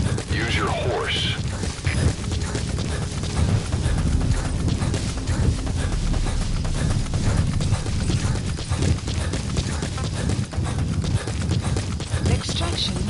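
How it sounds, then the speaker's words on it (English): Horse hooves clip-clop at a steady gallop in the Metal Gear Solid V video game, a continuous rhythmic pounding that sits under a dense layer of game noise and sporadic booms throughout. "Use your horse."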